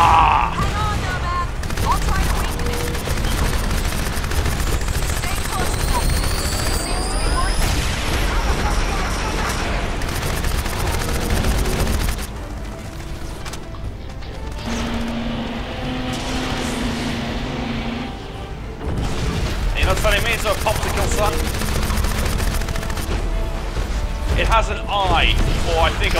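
Gunfire and explosive impacts from combat in the shooter game Crysis, aimed at an enemy's face, with bursts, booms and crashes running dense and loud through a chaotic battle mix, with someone talking over it.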